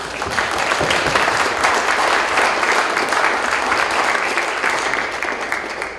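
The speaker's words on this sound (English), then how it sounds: "let's do a round of applause for Ever and everything he's got going on." A city and university event audience claps in a steady, full round of applause lasting several seconds, evenly dense and fairly loud before tapering slightly at the end.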